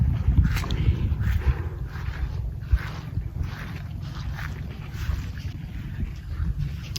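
A boat motor drones in a steady low rumble near Estanza beach in Lingayen, Pangasinan, with gusty wind buffeting the microphone throughout.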